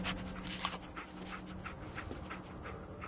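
Dogmeat, the dog companion in the video game Fallout 4, pants softly in quick, rhythmic breaths, close but quiet, with a few faint whimpering notes and no talk over it.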